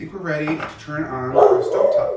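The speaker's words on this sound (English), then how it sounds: "If you hear a howling dog in the background, that's just my dog" Pluto, a pet dog, howls and whimpers in the background of a home kitchen where cabbage soup is being made, its wavering cries partly buried under a person talking close by.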